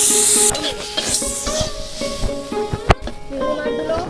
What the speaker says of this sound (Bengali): এবার কড়াইতে দিয়ে দেবো পেঁয়াজগুলো আগে একটু লাল করে ভেজে নিচ্ছি